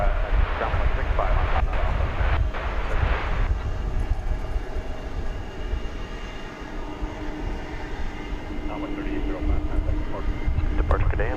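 Airliner taking off at DFW Airport: a loud, sustained jet-engine roar that eases slightly midway then builds again, with faint talk mixed in at times.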